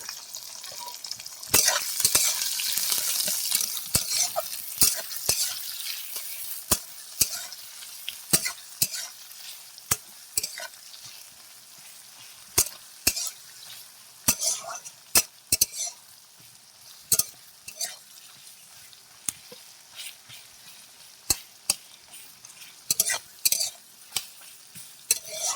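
Onions sizzle in hot oil with whole cumin while a utensil stirs them, a steady frying hiss broken by sharp, irregular scrapes and clinks against the pan, close and clear with no talking.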